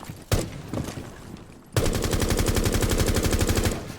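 Sledge's weapon firing in Rainbow Six Siege: a lone sharp shot, then a loud, sustained burst of rapid automatic gunfire hammering steadily for about two seconds before cutting off.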